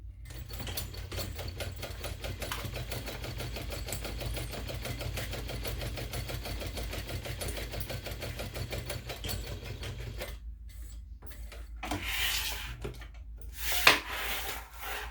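A sewing machine bastes a messenger bag flap in place, running steadily with a rapid even stitching rhythm for about ten seconds, then stopping, followed by a few brief handling rustles and a sharp click.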